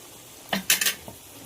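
Onions for a chicken fry stirred in a pan: a few sharp scraping clanks of a spoon against metal in quick succession, close and fairly loud, with faint sizzling underneath.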